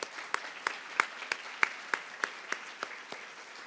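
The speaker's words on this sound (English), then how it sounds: "One more round of applause." A single pair of hands claps at a slow, even pace, about a dozen crisp, separate claps over a faint room hum, not the dense wash of a full crowd.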